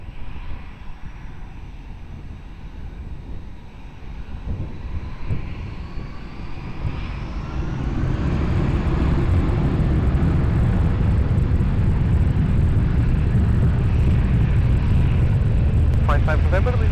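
A British Airways Speedbird 505 airliner takes off from runway 20 at Lisbon Airport, its jet roar building steadily and swelling loud after several seconds, while tower radio chatter carries on over the engine noise.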